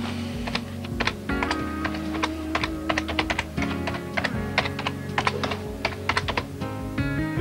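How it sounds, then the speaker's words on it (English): Someone is typing a letter on a 1995 Apple computer keyboard in a word processor, producing a steady, close run of crisp key clicks in an irregular rhythm, with occasional heavier strokes and no talk. "And all you have to do is start typing."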